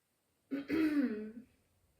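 A single close throat clearing, a short rough rasp that fades out in a quiet room.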